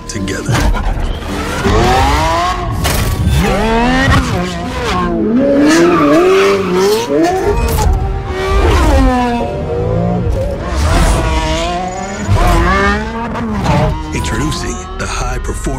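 A Lamborghini Revuelto, a high-performance electrified hybrid supercar, revs loudly with rising and falling engine notes while its tires squeal and skid, a dense, close roar that runs almost unbroken throughout.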